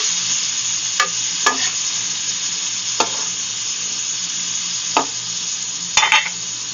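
Bottle gourd (upo) sautéing in a hot pan, a steady broadband sizzle with sharp utensil scrapes and taps against the pan at irregular intervals, close and continuous with no talking.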